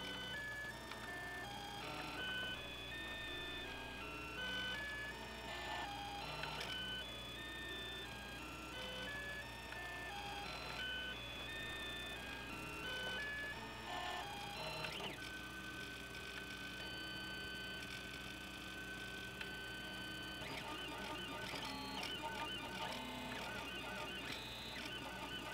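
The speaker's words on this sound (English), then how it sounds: "here's the printer starting out." A 3D printer beginning to print a plastic part for a DIY PC handbrake, giving steady whirring stepper-motor tones and ticking movements that shift pitch as the head moves, with a constant low fan hum underneath and no talk.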